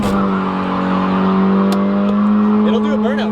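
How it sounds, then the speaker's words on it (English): Honda D-series engine in an EK Civic revving hard during a burnout, a steady loud drone with a harsh rising whine and faint tire squeal near the end. "Do you think this thing will rip a burnout?"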